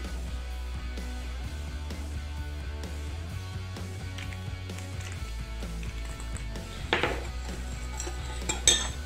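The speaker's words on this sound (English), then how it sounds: "Give it a quick stir." Metal utensil stirring headache salve ingredients of oils in a pot, giving light scraping and clinking against the pan with a steady low hum behind and a couple of sharper clinks near the end.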